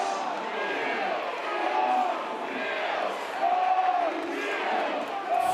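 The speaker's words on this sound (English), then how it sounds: "This is the most animated this crowd has been today." A college baseball crowd at a USC versus North Carolina game roars and whoops in a sustained wash of cheering, with a commentator talking over the noise.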